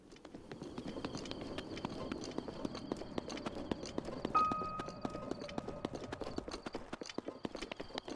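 Horse hooves clip-clop at a steady walking rhythm in Zelda: Breath of the Wild, a continuous run of sharp, quiet taps over a soft outdoor ambience, joined briefly by a thin tonal chime midway.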